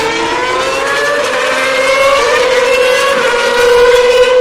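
Formula 1 cars, a Toro Rosso followed by a Force India, leave the Spa pit lane for qualifying, their high engine whines overlapping and shifting in pitch as they pass one after another, loud and close.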